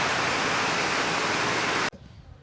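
Steady, loud broadband rain hiss fills the first two seconds at an outdoor home workshop where a wooden desk frame is being built, then cuts off abruptly, leaving faint background noise.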